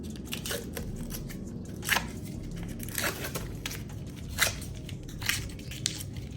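Tape that has sat for eight years is peeled and torn off a Chevy Gen 4 LS 6.0 cylinder head in crackly, ripping bursts, with several sharper tearing peaks over soft background noise.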